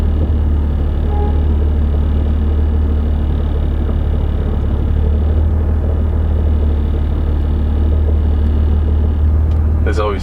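Chevrolet Camaro fitted with four-inch quad exhaust tips creeping up a ramp, a loud, steady low engine rumble from close by throughout, with people talking over it.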